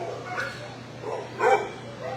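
Dogs howl and yip in a few short rising bursts, moderately near, over a steady low hum, with little else around them.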